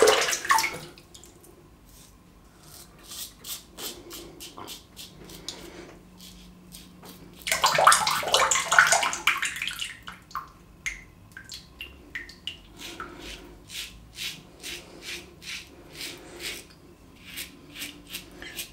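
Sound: water running from a tap (faucet)

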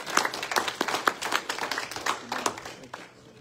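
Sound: congregation hand clapping

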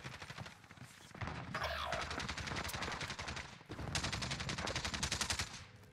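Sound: shotgun fire in a Call of Duty video game

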